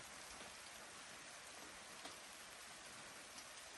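Steady rain falls in a dense, even hiss, moderately quiet and unbroken, with a few faint individual drops standing out and no voices.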